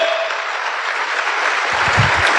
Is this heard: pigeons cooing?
no